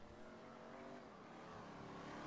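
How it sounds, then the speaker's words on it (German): A car drives past in the video game GTA, a steady engine drone with rising revs and faint tire noise, heard alone and fairly constant throughout. "Oh, ich höre ein Auto."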